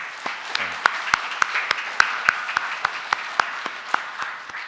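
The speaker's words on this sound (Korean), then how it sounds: "우리 박수로 한번 환영하도록 하겠습니다." A church congregation applauding in welcome during a Sunday morning service, steady hand clapping from a crowd lasting several seconds with sharper individual claps standing out.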